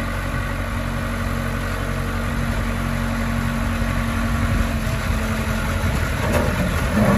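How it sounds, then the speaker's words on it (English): A John Deere 310D backhoe loader's diesel engine runs steadily at a working idle with a slight rise in strain as the front loader lifts, close and continuous with no talking. "it does have the power to pick up the front of that backhoe, so the front end loader is working"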